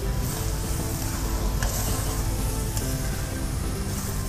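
Chopped onions sizzling steadily in hot oil while frying as the base of a mushroom masala curry, a continuous close crackle and hiss with no talk.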